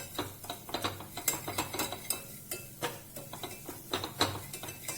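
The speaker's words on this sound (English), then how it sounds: "we'll add some wheat flour and we'll cook the wheat flour in butter for around a minute." Wheat flour being stirred and cooked in melted butter in a pan for a pepper pasta sauce, with a steady run of close, irregular scraping and tapping clicks from the spoon against the pan and no talking.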